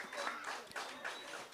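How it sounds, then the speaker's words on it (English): Scattered applause from an audience at a community water system commissioning ceremony, a brief, quiet patter of hands mixed with murmuring voices, fairly distant and soft. "Give them a round of applause"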